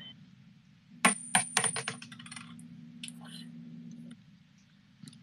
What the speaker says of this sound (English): We got Tati flipping the coin